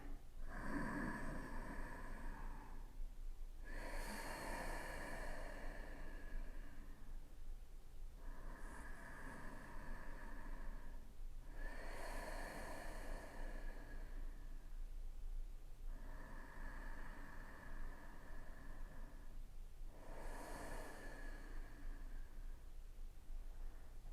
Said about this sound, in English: just take 3 deep Ujjayi breaths here